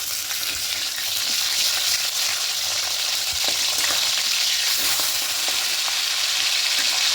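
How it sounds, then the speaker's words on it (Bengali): Fish fry in oil in a pan on a gas stove, a steady, even sizzle with occasional light crackles running throughout, close and uninterrupted, with no talking. "এইভাবেই মাছগুলোকে ভেজে নেবো"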